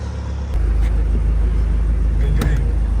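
A car engine hums steadily from inside the vehicle, a low continuous drone with faint road noise as it pulls away.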